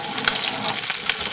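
Butter from frying chicken sizzles steadily as it is poured into a pan of milk gravy, a close, continuous crackling hiss with small pops and no talking.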